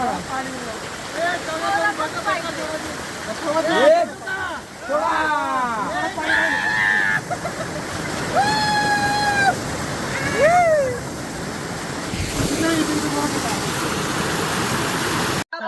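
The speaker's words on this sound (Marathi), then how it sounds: "या ठिकाणी खूप जास्त धबधबा चालू आहे." Kalmandvi waterfall near Jawhar, a steady broad rush of falling water that runs under someone talking and shouting throughout, with bursts of excited voices from a crowd around it.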